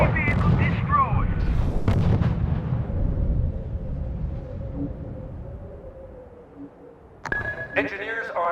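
Artillery fire in the WWII strategy game R.U.S.E. at the Battle of the Bulge: heavy booming blasts in the opening seconds, then a long fading rumble, with radio-style voice reports breaking in near the end.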